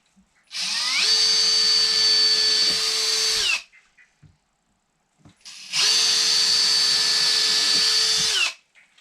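Power drill boring pilot holes in a wooden spreader for a workbench build, in two sustained high-pitched runs of about three seconds each, separated by a brief quiet pause, loud and close.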